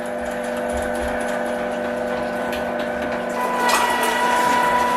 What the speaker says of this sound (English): It's been a while since I've used my grinder. Hopefully it's still working good.